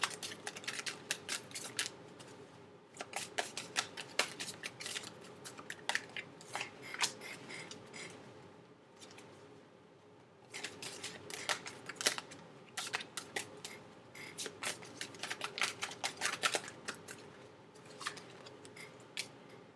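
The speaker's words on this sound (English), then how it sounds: "That was the weirdest shuffle of my life." Quiet, irregular bursts of crisp tarot card riffling and slapping in two flurries, with a short lull in between as cards are shuffled.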